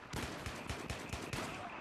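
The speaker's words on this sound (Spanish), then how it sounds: "Oh, escucho los tiros." Rapid automatic gunfire in Battlefield 3 rattles in a steady stream of evenly spaced shots, somewhat distant and muted.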